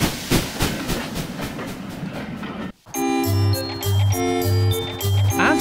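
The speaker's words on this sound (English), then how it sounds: ""Hurrah, we're off! Hurrah, we're off!" puffed Thomas." A steam locomotive puffs off, giving a rhythmic chuffing and clattering beat at a steady pace. It stops abruptly, then bright musical tones and a repeating low melodic figure follow.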